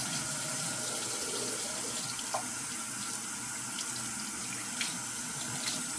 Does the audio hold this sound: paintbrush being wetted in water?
yes